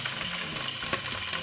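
A butterflied chicken breast fries in a pan with a steady, close sizzle and faint crackles, a few small pops rising out of the continuous hiss.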